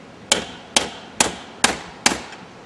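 Five sharp metal hammer strikes on a punch driving a hole through a horseshoe-players bench part, evenly spaced about half a second apart, close and loud with short ringing tails and no talk.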